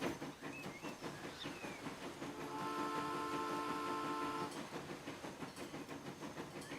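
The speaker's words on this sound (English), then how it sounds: "Let's get this train ride going." A train sets off in the video game Transport Fever 2, a steady mechanical rumble with a sustained whistle-like tone rising in the middle, moderately faint and continuous with no talking.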